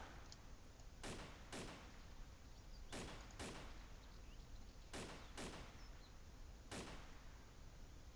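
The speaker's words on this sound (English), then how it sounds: "is that the same guy shooting a different gun?" Distant gunfire in DayZ on the Podagorsk map: a series of sharp, isolated shots spaced a second or two apart, echoing over steady low ambient noise.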